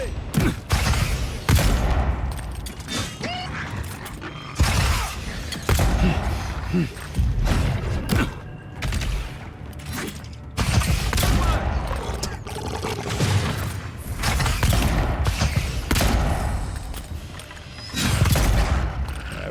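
Repeated pistol gunfire in the fantasy video game Avowed, with loud, dense bursts of shots and impacts recurring across the stretch amid combat effects, with no speech over them.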